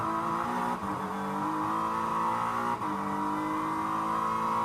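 GT race cars accelerate through a section at Sebring International Raceway, their engines a loud, continuous roar that climbs in pitch, with brief dips where gears change.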